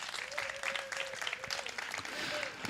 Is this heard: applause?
yes